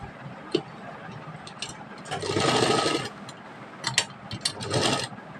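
A sewing machine stitching a lace corner border onto a sleeve: a mechanical whir with ticking clicks, swelling into two louder bursts of running stitches, close up and without talk.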